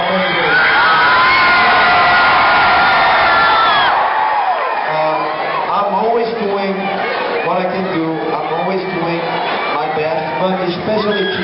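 A concert crowd in Tampa at a show cheers and whoops loudly for about four seconds, then someone speaks over continuing crowd noise.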